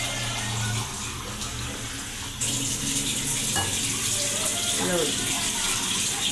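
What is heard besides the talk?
water being poured onto rice to soak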